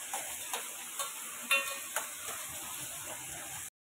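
Onion frying until reddish in a pan for a bombil (Bombay duck) dish, a quiet steady sizzle broken by a few light stirring clicks, ending abruptly.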